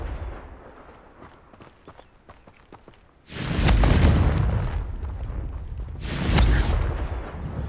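Confringo fire spell blasts in Hogwarts Legacy: after quiet footsteps, a loud booming explosion hits and rumbles, followed by a second blast a few seconds later.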